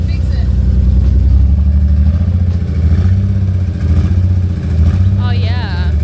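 A Nissan 300ZX engine runs loudly nearby with an uneven, stumbling idle rhythm, and voices can be heard faintly over the engine.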